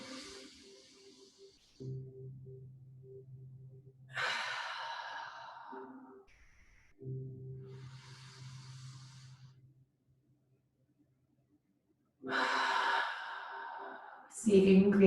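Breath sounds during a pranayama exercise: several long, audible exhales and sighs come in separate bursts with quiet gaps, close and clear, alongside soft voiced tones.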